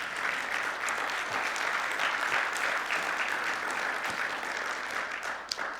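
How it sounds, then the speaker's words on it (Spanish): A church congregation applauds in a steady, even wash of many hands that carries on for several seconds at moderate level, with no clear voices on top. "¿Puedes darle un aplauso a Jesús?"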